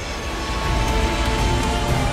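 Pizza oven cooling fans run nearby with a loud, steady whooshing drone and a faint constant tonal hum, like a distant jet engine.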